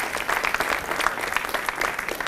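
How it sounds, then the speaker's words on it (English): Audience applause welcoming a speaker on stage at a business event, a steady, dense clapping from a sizable crowd lasting the whole moment without pause. "Give a nice and warm welcome and a nice round of applause, a very loud one, to Mikkel Borg Bjergsø."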